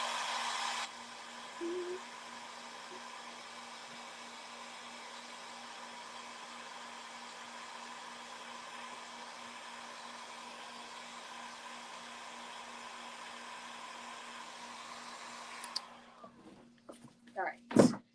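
A hair dryer blows steadily and close by to dry pouring glaze on decoupaged furniture, a constant whooshing hum that runs for about fifteen seconds and then cuts off, followed by a few small handling knocks.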